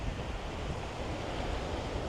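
Wind blows over choppy sea at Hua Hin beach in Thailand, a constant broad roar of surf and gusty wind buffeting the microphone, with no voices.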